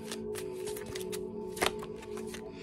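Tarot cards are shuffled close to the microphone in a steady papery rustle and riffle, with one sharper snap of the deck near the middle.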